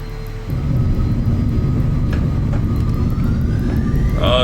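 A Learjet 35A touches down at Wellington after a stormy flight from Christchurch, its jet engines roaring loud and steady through the cabin, the roar building after a brief quieter start and a rising whine entering near the end.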